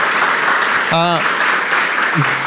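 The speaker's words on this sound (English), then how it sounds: "Let's give a round of applause." Applause from a conference audience fills the whole span as a dense, steady wash, with a brief voice cutting through midway and another near the end.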